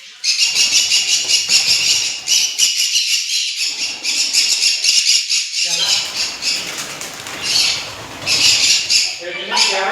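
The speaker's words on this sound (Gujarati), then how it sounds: "બહુ મસ્ત મસ્ત કબૂતર પક્ષી આ જોઈ લો." Pigeons at a zoo, a dense flock giving constant raspy squawking calls with bursts of wing flapping, loud and close, with faint people talking underneath.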